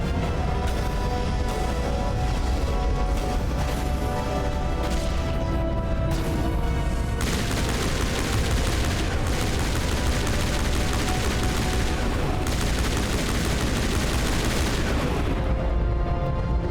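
Squad sniper gunfire in Mass Effect Legendary Edition crackles as a dense, continuous barrage of shots and booms, loud and unbroken throughout, with no talk.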